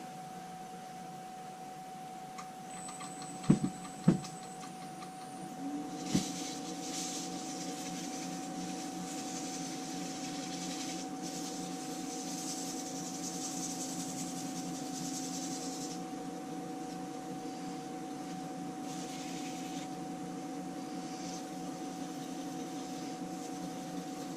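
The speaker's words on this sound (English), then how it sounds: "Okay, now we'll turn the lathe back on." Wood lathe turning a spalted maple chip and dip tray, a steady hum with a soft rubbing scrape of the cut running throughout, opening with a few sharp knocks near the start.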